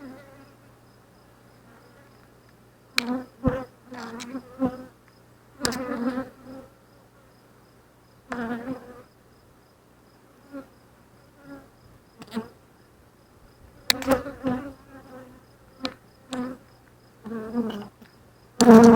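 Honeybees during a hive inspection with the frames of brood opened, buzzing in intermittent close passes that rise and fade against a quiet background.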